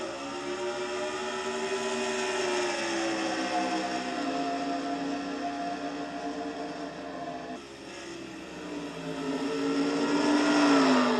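Race cars lapping Riverside in a Castrol GTX Cup Series race, a continuous layered engine drone that rises and falls slightly as cars pass, steady throughout and swelling toward the end.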